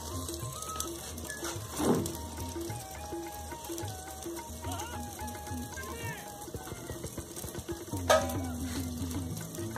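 Onions sizzle as they brown in a pan for a potato and meat curry, a steady crackling fry with occasional louder stirring knocks, and a voice talks throughout.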